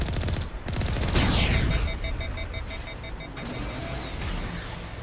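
Enemy gunfire in the Mass Effect video game, rapid bursts of shots mixed with loud vehicle engine roar and whooshing effects, dense and continuous throughout.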